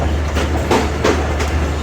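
Bolan Mail passenger train running through the night, a steady loud rumble of wheels on track with a low engine drone and a few rhythmic clacks, heard close from aboard.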